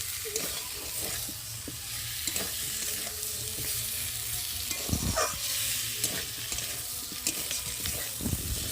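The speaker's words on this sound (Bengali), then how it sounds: "চলো মশলাটা একটু কষিয়ে নিই।" Spice paste fries in oil with potatoes and cauliflower in a pan, a continuous close sizzle broken by repeated scraping and knocking strokes of a spatula stirring it.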